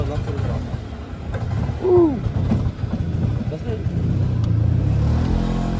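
An auto rickshaw engine, just started, runs with a steady low rumble that swells slightly toward the end, while people talk nearby.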